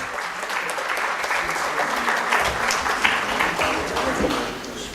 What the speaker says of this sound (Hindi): जोरदार तालियां बजाएं मित्रों।